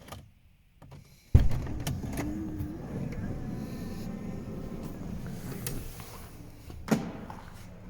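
Power sunshade in a 2018 Honda Odyssey Touring minivan gliding open: a faint, steady motor hum runs for several seconds after a sharp click, ending with a soft thunk as it stops.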